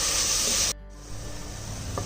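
Vegetables sautéing for a vegetable biryani in a pressure cooker, being stirred: a broad sizzling hiss that cuts out sharply for a moment, then resumes more softly with faint scraping.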